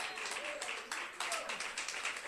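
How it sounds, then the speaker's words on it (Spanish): A church congregation claps steadily in praise of the Lord, a dense, fairly faint wash of many hands with no voices over it. "Dele un aplauso al Señor de alabanza."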